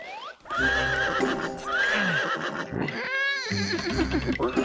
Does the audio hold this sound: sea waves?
no